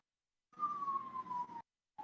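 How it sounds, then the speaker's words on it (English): A siren wails in the distance, one long tone gliding slowly downward for about a second, cutting off, then starting again, alone with no talk over it. "Those are sirens."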